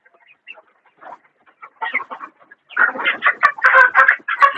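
Near a poultry pen in Shrivardhan, fighter-cross and desi hens and roosters start with sparse, faint clucks that swell into a dense, loud burst of overlapping cackling close by.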